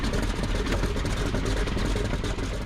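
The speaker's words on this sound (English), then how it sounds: "Just listen to the heart of the engine." Fokker D.XXI aircraft engine running while a stuck inlet valve is traced, a continuous rough, busy mechanical drone with faint rhythmic pulsing that stays at an even level.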